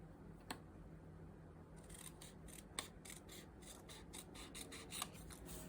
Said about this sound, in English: And just cut it out this way.